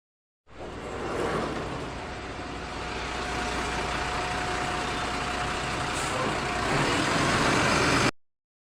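A school bus arrives, its heavy engine rumbling as it draws near and grows louder over several seconds before cutting off abruptly, with no talking.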